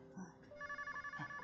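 A telephone rings with a quick, repeated electronic trill in short even pulses, fairly faint and indoors, briefly sounding alone.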